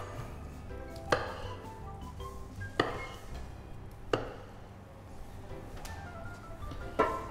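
A kitchen knife halves boiled, cooled potatoes on a board, giving five sharp chops spaced a second or more apart. Each cut thuds clearly against a quiet background.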